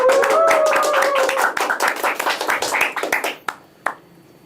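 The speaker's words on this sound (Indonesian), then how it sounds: "Tepuk tangan dong." An audience claps in a dense burst of applause for a guest at an Indonesian event, fading into scattered claps and a few final isolated ones.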